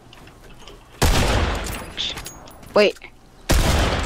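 Gunfire in the video game Fortnite, two loud sustained bursts of rapid shots with a brief sharp shot between, and a voice speaks briefly.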